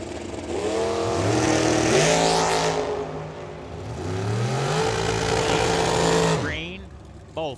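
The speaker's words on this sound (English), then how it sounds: "Tim Schola with that Mustang in the right lane, the 83 model, that single strut dragster of Bruce Schroeder out of Buckeye, Arizona." Drag racing at Firebird Motorsports Park: an '83 Mustang and a single-strut Uhara-chassis dragster launch side by side, engines roaring loud and close, climbing in pitch through two surges of revving before cutting off, with a track announcer talking over them.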